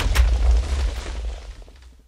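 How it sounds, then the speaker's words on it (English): A huge explosion in the Minecraft video game as a payload dropped from a stealth bomber detonates: one deep, loud boom with a crackling burst that rolls off and fades over about two seconds. "And quite a huge explosion"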